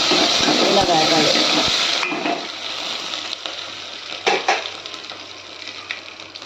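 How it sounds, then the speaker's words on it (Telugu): Curry leaves and a dal mix hiss and sizzle loudly in hot oil in a pan, the frying dying down after two seconds to a quieter crackle with a few stirring clinks. "కొంచెం కరివేపాకు వేసి ఇలా వేగాలి."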